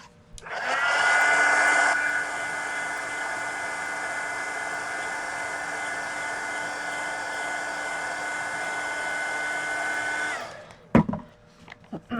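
A hair dryer blows on a mixed media drawing, starting with a louder high-speed whine for a couple of seconds, then settling to a steady lower hum before clicking off, followed by a few handling knocks.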